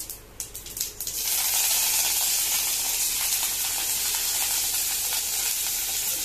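Urad dal and curry leaves crackle and sizzle in hot oil, a few sharp pops at first giving way to a loud, steady frying hiss that fills the rest of the clip.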